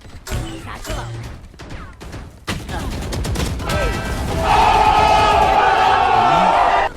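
Rapid bursts of gunfire from the tactical shooter game Valorant crack through chaotic game action, with shouting voices and a sustained firing run building toward the end.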